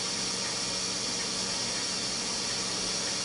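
A Ninja Foodi pressure cooker, cooking black eye peas, vents steam in one continuous loud, even hiss that fills the whole clip without a break.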